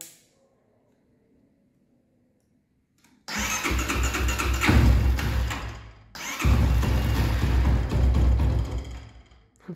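A rebuilt motorcycle engine, a project 230, starts for the first time after silence, catching with a loud rough roar, dipping briefly, then firing up again and running hard close by.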